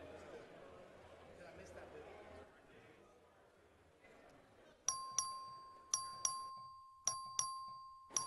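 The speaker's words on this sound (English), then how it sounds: "The clerk will ring the bell." A bright electronic voting bell in the Texas House chamber rings in a rapid repeating pattern of sharp strikes, following a stretch of quiet room murmur.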